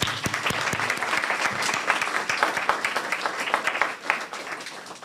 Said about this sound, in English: So let's go ahead and give all of our youth honorees a round of applause.